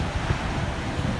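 Steady low rumble of wind buffeting a microphone on Marinha Beach, Algarve, Portugal, in winter, constant and close, with no voices.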